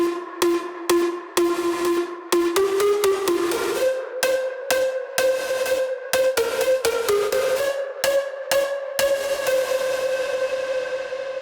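A loud, heavily overdriven synth lead stacked from five instruments plays punchy chords in a choppy rhythm, harsh and upfront, with no voices.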